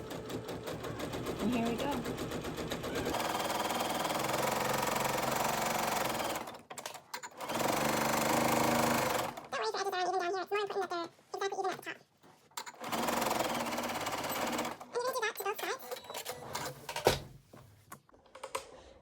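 A sewing machine stitches a seam on a large Ikea bag, whirring in steady runs that stop and restart, with a person talking briefly between bursts.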